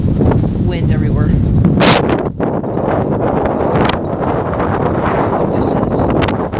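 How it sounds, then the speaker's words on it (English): Strong wind buffets the microphone outdoors aboard the USS Ling, a loud, constant low rumble and roar with gusty surges throughout. "Wind everywhere."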